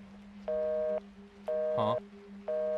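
Repeating electronic tone from a dead telephone line in the horror game The Cecil, sounding as evenly spaced half-second beeps over a steady low hum, with a short voice blip between beeps.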